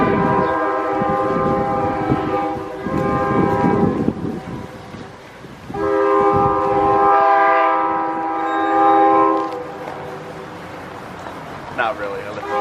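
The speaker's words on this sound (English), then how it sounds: "Hear another train coming in the distance." A train horn blares in long, sustained blasts, swelling and fading twice over rumbling rail noise, with a voice murmuring faintly at the start.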